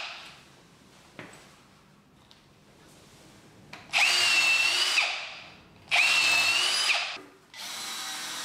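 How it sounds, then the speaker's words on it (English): A power drill bores into a timber batten being fixed to a wall, two loud sustained bursts of drilling each lasting about a second, preceded by quieter handling knocks. "I drill the batten and get the first fixing in."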